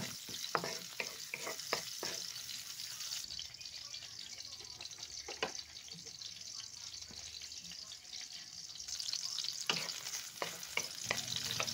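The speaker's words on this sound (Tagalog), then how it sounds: "I-stir fry lang natin yung bawang at yung sibuyas hanggang sa yung bawang magkaroon siya ng crispy sa edges" Garlic and onion stir-fried in a pan, a low continuous sizzle broken by frequent sharp spatula taps and scrapes, somewhat faint and close, with no one speaking.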